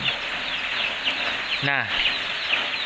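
Month-old Joper chickens in a free-range coop behind a house give a single short cluck over steady background hiss, with a brief spoken word nearby.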